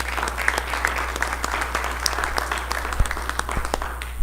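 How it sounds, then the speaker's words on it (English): Applause at a city council meeting, a room of scattered hands clapping for a few seconds, moderately loud with distinct individual claps and a steady low hum beneath. "How about a round of applause for Mr. Moore?"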